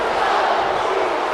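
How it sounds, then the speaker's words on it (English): Dense arena crowd roaring and cheering in the WWE 2K19 wrestling game at the Battleground pay-per-view, a steady loud wall of voices with no gaps. "Listen to this crowd."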